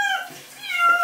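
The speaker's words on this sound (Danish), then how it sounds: "det er sådan en hjemløs kat eller en herreløs kat, vi giver et bad" A stray cat meows during a bath, a couple of close, tonal wails with a brief pause between them, and no talking over them.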